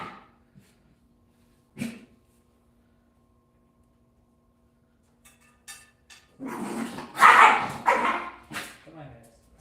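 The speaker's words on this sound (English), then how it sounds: "Wiener dogs." Dachshunds let out a single sharp bark, then after a quiet stretch burst into a loud flurry of overlapping barks and yips close by, with a person speaking over them.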